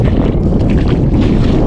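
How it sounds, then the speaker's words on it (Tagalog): Strong wind roars steadily across the microphone at a seashore during low tide, a loud, continuous low rumble with gusty buffeting and no voices, at a fishing spot where nets are being laid out. "Pasensya na po kayo kung medyo malakas ang hangin"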